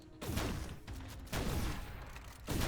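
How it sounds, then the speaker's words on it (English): Shotgun blasts from the video game Reality Break, three heavy broadband shots spaced about a second apart, each with a decaying tail, loud and close with no talk. "So basically, this weapon is a shotgun."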